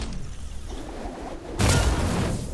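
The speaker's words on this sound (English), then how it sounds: "Pretty sure I had a gunshot behind me." A single muffled gunshot in Fortnite Chapter 4 bursts out partway through, sharp and distant, over a steady bed of game ambience.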